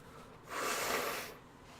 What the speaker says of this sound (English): I need to blow my nose.